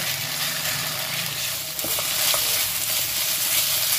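Spice paste with lemongrass frying in a pan for Padang-style satay sauce, a steady close sizzle throughout with a few faint stirring clicks.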